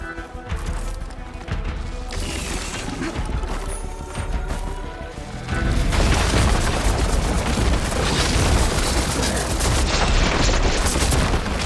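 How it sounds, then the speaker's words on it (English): Ballista firing shots in the video game Horizon Forbidden West, heavy booming impacts and crashing blasts over a dense rumbling battle din that grows louder and fuller partway through. "Hopefully the Janelle can fire a few shots from that ballista"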